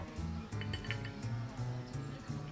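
Glasses clink together for a toast during a meal at a Gangneung pojangmacha, several light, bright taps over a low background hum.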